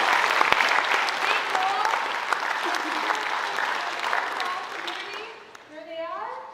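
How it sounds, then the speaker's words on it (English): Audience applause at a senior awards night fills the room, dense and steady clapping for several seconds before tapering off as a voice begins speaking. "let's clap for that"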